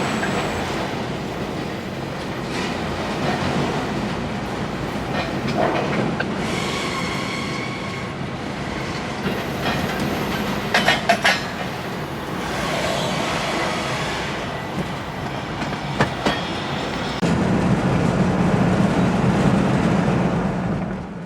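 Florida East Coast freight train rolls past in daylight in Fort Lauderdale, a long continuous rumble of wagons with clickety-clack wheel beats, occasional clanks and squeals, fairly close and steady throughout.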